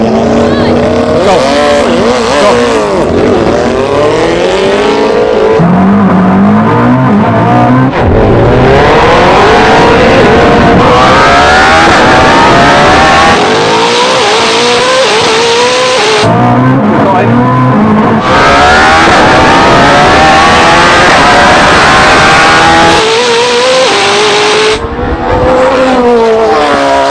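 A Koenigsegg Jesko and a tuned Hayabusa motorcycle accelerating hard in a drag race, engines screaming through rising revs with sharp shift breaks, very loud, while people talk excitedly over the run.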